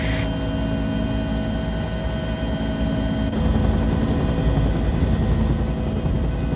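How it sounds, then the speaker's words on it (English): Army Sky Crane helicopter lifting off near railroad tracks in Butte, Montana: a steady, loud engine and rotor roar with broadband rushing thrust and wind that swells slightly partway through, with no talking. "I always like to see when it lifts off and a tremendous thrust from the chopper"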